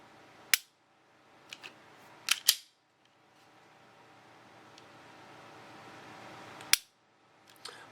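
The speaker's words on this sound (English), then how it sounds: "If I cock this gun, it does have a long pull" A Diamondback DB380 pistol is handled and dry-fired, giving several sharp, close metallic clicks and snaps, some in quick pairs, separated by quiet handling noise and a soft rising hiss, with no voices.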